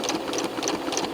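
Home sewing machine quilting around embroidery and appliqué on fabric: a quick, even mechanical whirring with a regular stitching pulse, close but fairly quiet, alone without talk.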